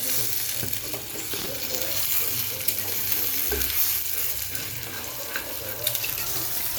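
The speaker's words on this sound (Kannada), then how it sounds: "ಎಗ್ಸ್ ಹಾಕ್ಕೊಂಡು ಹೀಗೆ ಲೋ ಫ್ಲೇಮಲ್ಲೇ ಹೀಗೆ ಮಿಕ್ಸ್ ಮಾಡಿಕೊಂಡ್ರೆ" Eggs frying and being stirred in a pan over a low flame while making egg burji, a steady soft sizzle with scraping and stirring clatter throughout, close up and alone.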